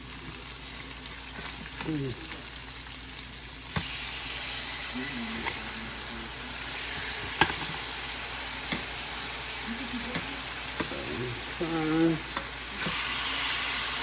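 Fish frying in butter and olive oil in a skillet gives a steady close sizzle with occasional scrapes from turning, while a voice speaks briefly over it.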